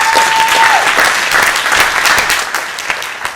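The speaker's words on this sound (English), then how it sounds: "the applause means much more than you think it means" An audience applauds steadily for a few seconds, the dense clapping beginning to thin out toward the end.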